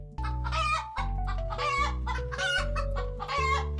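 Chickens in the video game Terracards cluck in repeated bursts, four or five rhythmic rounds of bright clucking over a steady low game music bed, close and loud.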